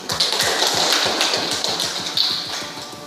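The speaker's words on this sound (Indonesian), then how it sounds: "Jadi, aplaus dulu." Applause from a classroom of students after a lesson on management, a steady patter of many hands clapping close by for about three seconds with no talk over it.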